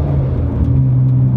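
Nissan R34 GTR driving, a steady, loud engine drone with a constant low hum from inside the car, brief and unchanging.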